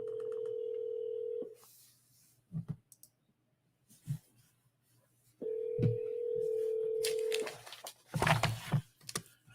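An outgoing telephone call rings twice: a steady tone lasting over a second, a long pause with faint clicks, then a second longer ring followed by handling clicks and rustle.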